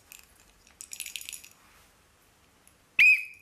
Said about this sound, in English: A little whistle.